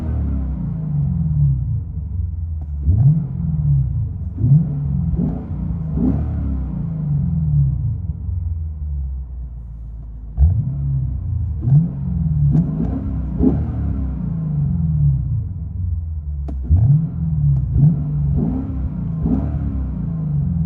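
A 2015 Lexus RC F 5.0 V8 fitted with APEXi mufflers, heard from inside the cabin, revs repeatedly toward redline in loud, deep rising surges that fall back between pulls, with no talking.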